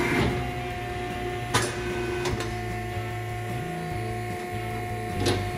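A rotary rebar bender works number 5 rebar, giving a steady mechanical hum and whir with shifting motor tones and a few sharp clanks and knocks along the way, with no talk.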